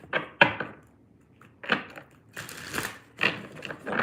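Wisdom of Avalon oracle cards being shuffled by hand, close up: a handful of quiet, irregular rustles and soft slaps with gaps between them, and no talking.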